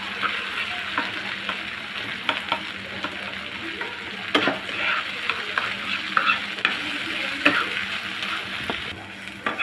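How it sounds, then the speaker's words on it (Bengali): Flat beans with egg and dried chili fry in a pan while being stirred, a busy close-up crackling sizzle dotted with frequent spatula scrapes and knocks, continuous and without speech. "দিয়ে ভালো করে নেড়ে চেড়ে নিব।"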